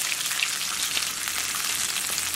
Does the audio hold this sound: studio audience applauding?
no